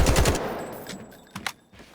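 Rapid automatic gunfire at a firing range in the shooter Delta Force, a loud burst of close shots at the start, then fading, followed by a few sharper isolated shots.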